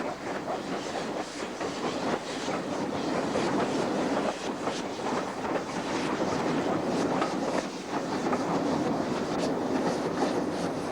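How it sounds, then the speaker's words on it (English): A British mixed goods train rumbles steadily past nearby, wheels clattering over the rail joints with a continuous roar and no voices. "we can see a typical British mixed goods train emerge"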